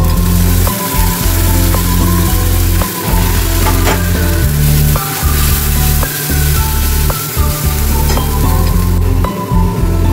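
Mustard paste with a little Kashmiri chilli fries in a hot pan, a loud continuous sizzle close up, broken by repeated scraping stirs throughout.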